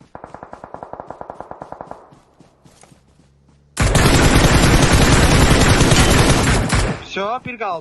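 Automatic gunfire in the mobile battle-royale game PUBG Mobile: a rapid rhythmic burst of shots, then a short gap with scattered sounds, then a loud sustained barrage of fire lasting about three seconds, ending abruptly.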